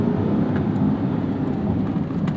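A 2021 Corvette C8 Z51 is driven hard, giving a continuous broad roar of engine and road noise that stays loud and even from start to finish.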